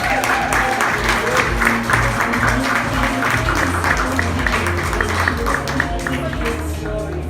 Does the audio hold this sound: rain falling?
no